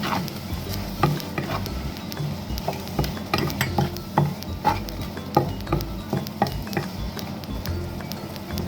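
Onions stir-frying in a pan for a Filipino onion leek and shrimp stir fry: a continuous close sizzle with repeated scraping and clinking stir strokes in an irregular rhythm, no talking.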